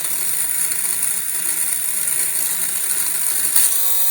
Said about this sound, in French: Donc on arme les moteurs